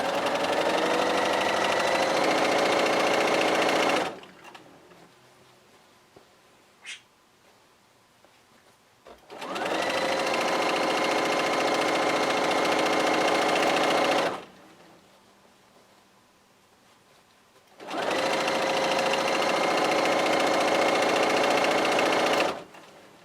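A sewing machine stitches strips of a jelly roll race quilt with the needle kept down, whirring in three steady bursts of several seconds each, separated by quiet pauses with only faint ticks.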